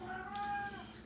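A pet cat waiting for treats gives one drawn-out meow, clear and close, with no talking.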